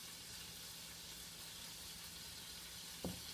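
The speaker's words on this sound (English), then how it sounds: "So now I'm adding my chorizo" Chorizo sizzles in a pan, a faint, steady frying hiss throughout with a soft clink of a utensil near the end.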